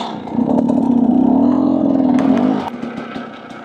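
A 50cc dirt bike engine revs on a mountain trail, a buzzy, close whine that swells and holds before dropping off sharply, with clattering knocks as the throttle eases.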